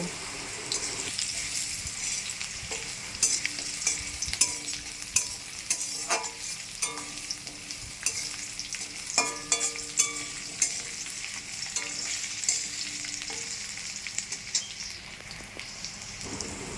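Cumin, bay leaf, dried chilli and garlic temper in hot oil with a steady, close sizzle dotted with scattered pops and crackles, while faint tonal sounds sit in the background.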